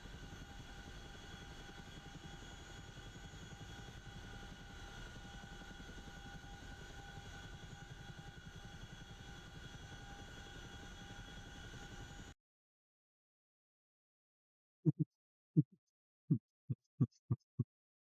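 CH-47F Chinook twin-rotor helicopter in DCS World, a steady loud rotor and engine drone that runs unbroken for about twelve seconds, then cuts out abruptly, followed by a few sharp isolated thumps.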